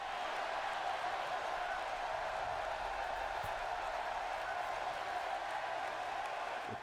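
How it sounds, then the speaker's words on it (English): Crowd cheering in the WWE 2K16 wrestling game during a Ring of Honor universe-mode show, a steady, dense roar holding at an even level without a break. "The crowd are really excited for this one once again."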